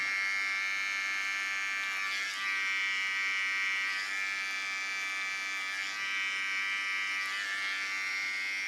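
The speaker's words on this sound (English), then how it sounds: "To the clipper." An electric hair clipper runs close to the microphone while cutting hair, a steady, high-pitched buzzing drone with slight dips in tone as the blades move through the hair.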